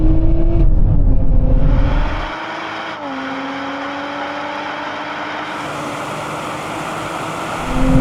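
Nissan Z, Lotus Emira and Toyota Supra launching side by side in a drag race, loud engines revving and rising in pitch through gear changes, a heavy low rumble at the start easing into a steady climbing whine.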